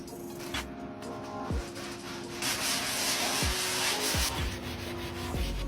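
Melamine sponge with Scrub Daddy power paste scrubbing a dirty bathtub, a steady close rubbing and swishing that grows louder partway through, alone over a faint background hum and occasional thumps.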